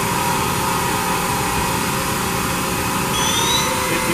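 A Mori Seiki NT6600 CNC machine spindle turning at 4500 RPM, giving a constant whirring hum with a thin high whine that climbs slightly toward the end, steady and near, without speech.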